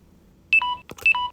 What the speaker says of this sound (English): We're going to hear a beep, and then we're going to hear a distinctive sound effect as it resets.